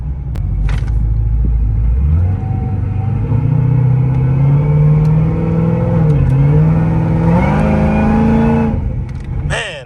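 A loud supercharged Cadillac CTS-V engine rumbles close up, its pitch climbing steadily as it revs and accelerates, with a brief lift near the end.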